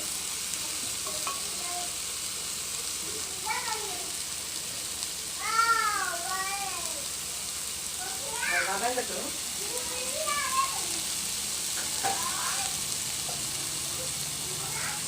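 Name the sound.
sautéing ingredients for squid curry in a pan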